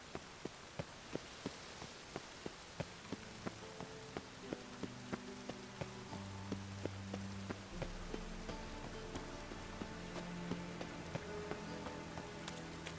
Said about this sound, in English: Rain like this would fetch a fortune in Zerrikania.